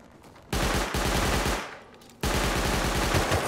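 Loud, close automatic gunfire in the Rust video game, two long rapid bursts separated by a brief lull.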